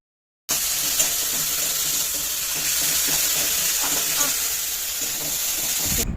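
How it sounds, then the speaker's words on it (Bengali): Spice paste frying in a pan for a Bengali egg omelette curry, a steady close hiss of sizzling with soft stirring scrapes running continuously after a brief silent start. "সেই মশলাটাকে দিয়ে দিতে হবে, নিয়ে ভালো করে ভেজে নিতে হবে"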